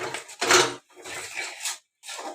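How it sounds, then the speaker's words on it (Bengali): Spice masala with turmeric and salt being stirred in a pan, giving three scraping, clattering bursts of utensil against metal with short pauses between. "এবার আমরা একটু নাড়িয়ে দেব।"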